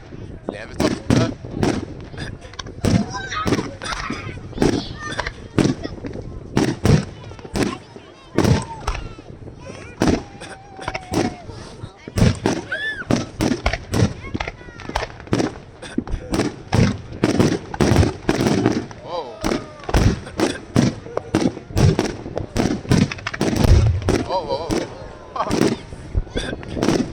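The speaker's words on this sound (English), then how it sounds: "We have more fireworks." A resort fireworks display bursts in a dense, continuous barrage of booms and crackles lasting nearly half a minute, loud and echoing.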